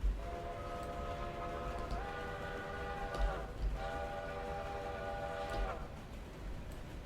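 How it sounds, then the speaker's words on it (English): A locomotive runs in the Railroader video game, its horn sounding in two long blasts over a low rolling rumble of the train, moderately loud and steady. "Fair warning to all. Locomotive is on the way."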